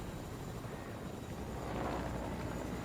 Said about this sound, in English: helicopter that already landed here